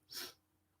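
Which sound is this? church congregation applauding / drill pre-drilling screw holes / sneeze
sneeze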